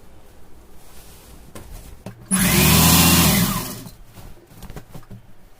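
A sewing machine runs in one loud, steady burst lasting under two seconds while stitching a plain chudithar, set between quieter handling noises of fabric and machine parts.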